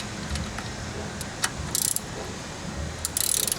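A 12 millimeter ratchet wrench loosens a bolt on the power steering pump of a Jeep Wrangler YJ, giving two short bursts of quick metallic clicking close by against a low background hum.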